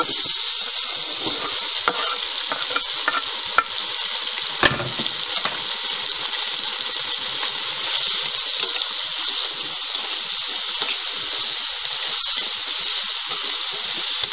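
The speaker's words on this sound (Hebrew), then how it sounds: "אני מטגנת אותם עד שהם מבחינים יפה" Roughly chopped large onions fry in oil for potato and chicken sofrito, giving a steady, loud sizzle and hiss with a few sharp pops, close by and without talk.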